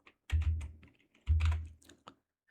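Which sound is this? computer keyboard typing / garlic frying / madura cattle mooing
computer keyboard typing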